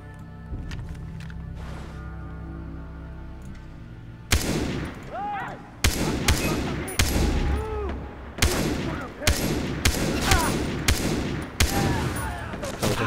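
Gunfire in the shooter game Far Cry 3 cracks out in a series of loud, sharp shots after a quieter start, spaced every second or so with ringing tails.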